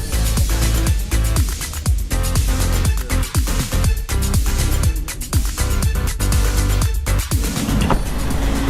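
Interior of an Uber car riding through Istanbul toward Beşiktaş, a loud, steady road and engine rumble with bumps and shifts in tone, no talking.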